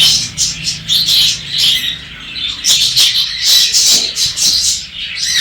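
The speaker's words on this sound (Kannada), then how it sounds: "ಇದು ನಂದು ಟೇಮ್ ಬರ್ಡು, ಇದಕ್ಕೆ ಎಫೆಕ್ಟ್ ಆಗಿಲ್ಲ, ಆಟ ಆಡ್ಕೊಂಡು ಐತಿದ್ರು" A tame pet bird, healthy and active, calls repeatedly in a series of bright chirps and tweets, close and fairly loud, with no talking over it.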